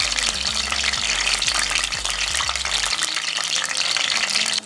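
A steady, loud sizzle of breadfruit frying in hot oil flavored with scallion and garlic, with occasional low knocks or stirring sounds early on.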